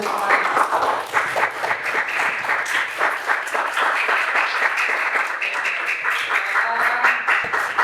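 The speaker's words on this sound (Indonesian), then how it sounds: "Ya, tepuk tangan untuk kalian semua." A class of students claps together at the close of a fiqh lesson, steady close applause with quick uneven claps running throughout.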